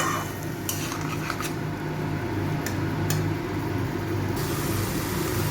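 Banana flower stir-fries with spices in a pan, with repeated spatula scrapes and clinks against the metal over a low, continuous sizzle. No one talks.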